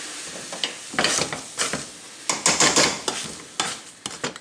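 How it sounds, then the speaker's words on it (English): Drained potatoes mashed in a pot, heard as a series of irregular close scraping and thudding strokes with brief pauses between, no talking. "Give them a mash."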